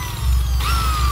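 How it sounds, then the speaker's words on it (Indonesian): A car body polishing machine spins steadily and loudly close by, holding a constant whirring hum. Partway through its pitch rises briefly, with no talk over it. "ini memang alat poles"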